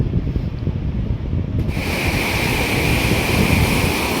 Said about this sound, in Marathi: समुद्राचं बघा संध्याकाळचं हे वातावरण आहे पूर्णपणे.